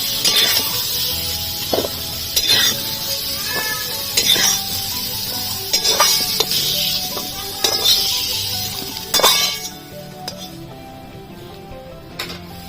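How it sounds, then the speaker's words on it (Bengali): Papaya pieces frying in oil, a steady bright sizzle punctuated by repeated sharp scrapes and clinks of a spatula against the pan, fading at the end. "পেঁপেটা হালকা লাল করে ভেজে নিয়েছি তুলে নেব"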